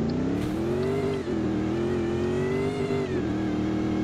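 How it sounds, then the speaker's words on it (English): A limousine engine revs as the car accelerates, a steady loud drone of rising and falling engine tone that runs the full length without talk. "Gotta love a good engine."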